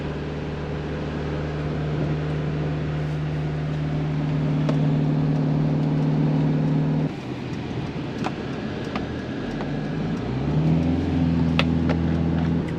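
Engine of a Tiffin Wayfarer motorhome droning steadily as it climbs an incline, a continuous loud hum that drops and then rises in pitch as the gears shift, with no talking.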